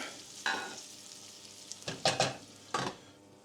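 Onions sizzle and scrape in a pan as they are stirred, several sharp bursts of frying and clatter standing out over a low steady hiss, close by with no talk.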